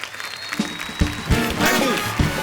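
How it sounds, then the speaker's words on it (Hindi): Studio audience applause on a Hindi comedy talk show, a dense, continuous wash of clapping at steady, fairly loud level for a couple of seconds. "जोरदार तालियां सिम्बा के लिए।"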